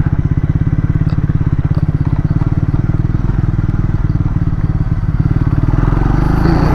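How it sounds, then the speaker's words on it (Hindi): A motorcycle rides over a rough, broken stretch of road in extreme cold near the Siachen Glacier base camp in Ladakh. Its engine pulses in a fast, steady rhythm that stays loud and close throughout. "अपनी बाइक बहुत ही बढ़िया परफॉर्म कर रही है"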